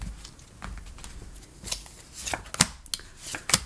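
Tarot cards shuffled by hand, a series of soft, irregular riffling and slapping bursts, close and fairly quiet, with no talk.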